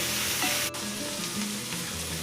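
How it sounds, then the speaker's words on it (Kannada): Chilli chicken frying in a pan, a loud continuous close sizzle with scraping stir strokes and one sharp clink of the spoon against the pan. "ಕೈ ಬಿಡದೆ ಫ್ರೈ ಮಾಡ್ಕೋಬೇಕು, ಯಾಕಂದರೆ ಒಂದು ಕಡೆ ಫ್ರೈ ಆಗಿ ಇನ್ನೊಂದು ಕಡೆ ಫ್ರೈ ಆಗಲ್ಲ"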